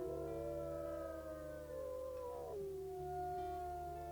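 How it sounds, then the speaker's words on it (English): Wolf howls from the video game WolfQuest: a sustained, wavering tonal howl with layered voices gliding downward midway, heard alone over a steady low hum. "She has such a sweet face as she's howling."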